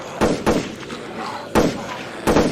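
Gunfire in a horror video game: four sharp, booming shots at irregular intervals, two close together, then two more spaced apart, with a low rumble between them.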